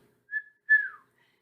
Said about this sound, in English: Can you whistle? Do as I do.